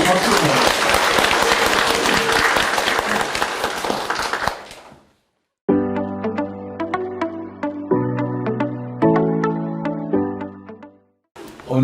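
A crowd at an academic conference claps for about four seconds, then a piano plays a few sustained chords in separate phrases.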